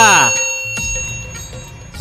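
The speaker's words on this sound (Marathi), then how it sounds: "चॅनलला सबस्क्राईब करा आणि घंटी नक्की वाजवा" A bright electronic bell chime rings out, its clear tones lingering and ringing on over a soft background.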